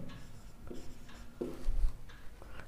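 Marker or chalk strokes on a board while a probability problem about playing cards is solved, short scratchy bursts of writing spread across the moment, close and fairly quiet, no talking.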